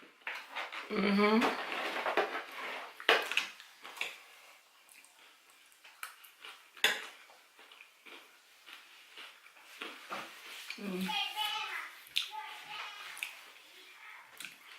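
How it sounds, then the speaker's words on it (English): High-pitched children's voices call out now and then in the background, mixed with clinking dishes and household clatter. "You probably hear my kids in the background."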